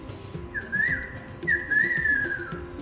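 A person whistles in imitation of a bird call: two rising then wavering whistled phrases, fairly close and clear over a faint background murmur.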